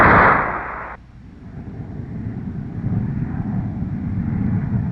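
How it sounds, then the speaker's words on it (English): North American Aviation F-107 jet going to afterburner for its takeoff roll: a loud roar cuts off abruptly, then a deep, rumbling engine thrust builds steadily and continues alone. "Release brakes, throttle to afterburner."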